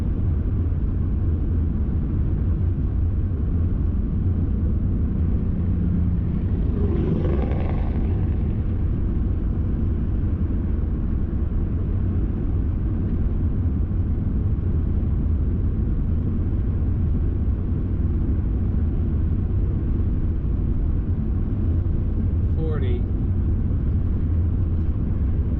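A van cruising slowly at about 35 mph on a Rocky Mountain road between Missoula, Montana and Wallace, Idaho, with a continuous low engine and road rumble inside the cab and a couple of faint passing swooshes.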